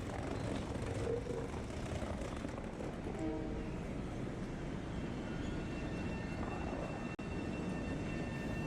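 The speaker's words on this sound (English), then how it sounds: "As it starts departing the station, the train is just continuous and you're thinking this is everlasting" A JFK AirTrain pulls out of a New York airport station, a steady continuous rumble of rail running and motor whine holding level throughout, with one sharp click near the end.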